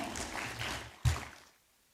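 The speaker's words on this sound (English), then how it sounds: "Let's give a clap to CPA Fred Abuga." Audience applause at an annual general meeting, a short burst of clapping that swells for about a second, then a sharp loud clap before it fades into silence.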